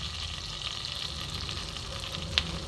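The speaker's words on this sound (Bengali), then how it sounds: "এবার ফোড়নটা খুব ভালো মতন ভেজে নেব" Tempering spices sizzle in oil for Bengali mango rice: black mustard seeds, cumin, dried red chillies and curry leaves. The frying is a soft, even crackle throughout, with one sharp pop near the end and nobody talking.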